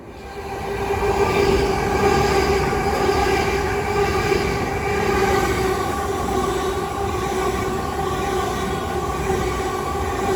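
A Southeastern Class 375 electric train passes through New Cross on the South Eastern main line, a steady loud rumble with whining electric motor tones and rolling wheel noise that holds throughout with no voices.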